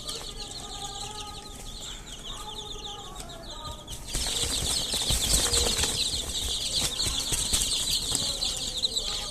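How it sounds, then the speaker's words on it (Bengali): Young chicks peeping and scrabbling about a brooder on a cold winter night, high chirps steady throughout with fluttering, wing flaps and louder shuffling movement after the first few seconds. "দেখতে পাচ্ছেন কেমন লাফাইতেছে মুরগির বাচ্চাগুলা"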